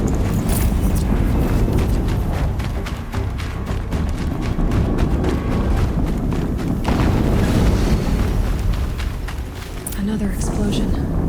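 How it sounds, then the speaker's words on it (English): Heavy thuds and bursts from a Horizon Zero Dawn battle keep sounding under a busy, loud game soundscape, with a stronger blast hitting about two-thirds of the way through and someone speaking over the action. "Another explosion."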